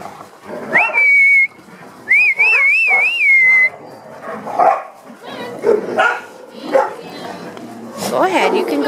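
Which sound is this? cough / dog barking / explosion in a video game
dog barking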